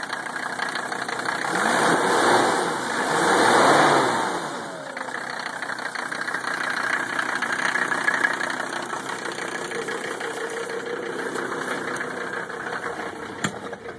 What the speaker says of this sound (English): It's got really old fuel in it too. That's one reason why it's idling a little rough.